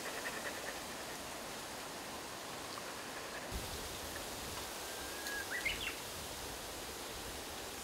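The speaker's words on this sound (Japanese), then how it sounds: "風強いな。" Strong wind blows steadily outdoors in an open countryside setting, a broad constant rush with a gust building midway, a faint bird call briefly audible over it.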